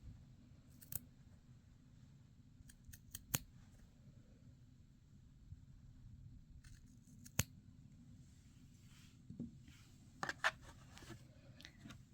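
Scissors snip through a felted knitted steek at a handful of sharp, separate moments over a low, steady background hum, with long quiet gaps between the cuts and a small cluster of snips near the end.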